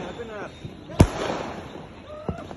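New Year fireworks in Madurai, India, pop and burst at midnight: a sharp loud bang near the start of the moment, then a few fainter pops with crackle, heard under background chatter and voices.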